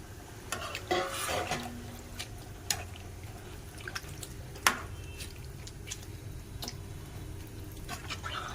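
Water is poured into a pan of chicken masala and stirred, producing scraping spoon strokes against the pan, soft bubbling and occasional sharp knocks, fairly close and without talk.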